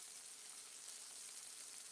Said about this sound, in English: They're not nearly as sizzling as much.